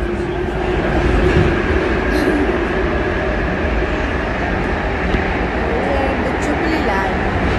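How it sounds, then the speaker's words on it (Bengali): Steady low rumble and rolling hum from inside a moving London Underground carriage, loud and continuous throughout, with faint background chatter. "ট্রেনে উঠে গেছি"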